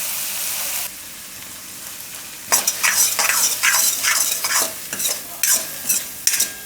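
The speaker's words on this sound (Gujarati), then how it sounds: "થોડીક વાર આમાં આપણે ફેરવી લેવું." Corn Maggi noodles stirred in a pan, a utensil scraping in repeated bursts of close scratchy clatter with a soft sizzle underneath, after a short steady frying hiss at the start.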